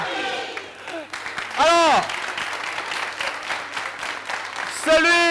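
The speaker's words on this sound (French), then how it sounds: "Applaudissez-moi pour Watson" A TV studio audience applauds for a guest named Watson on a French-language entertainment show, the clapping running under an energetic host's speech and rising in swells, with a loud burst near the end.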